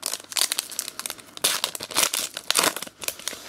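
A Yu-Gi-Oh! booster pack being torn open, a close, crisp run of crinkling and ripping foil wrapper in several bursts with no voices.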